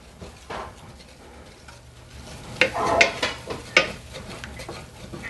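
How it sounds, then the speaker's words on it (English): A wooden spoon stirs mac and cheese in a pot and scrapes the bottom, giving soft scrapes and a few sharper knocks against the pot over a light sizzle, with no talking. "this is why you want to use a wooden spoon, so you can scrape the bottom of it"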